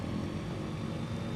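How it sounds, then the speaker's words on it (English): The engine of a Savage Cub RC plane at an RC airport holds a steady, faint droning whine at power before takeoff, with no voices. "engine spool up takeoff, where we'll have full power on the brakes, and then we'll release the brakes while the engine is spooled up"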